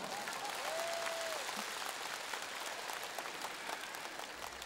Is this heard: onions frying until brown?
no